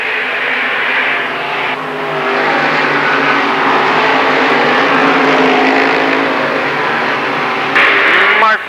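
Modified stock cars race around the Lernerville Speedway oval, several engines blending into a steady, dense roar with a short swell near the end as cars exit a turn; no voices are heard.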